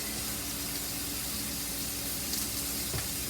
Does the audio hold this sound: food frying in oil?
yes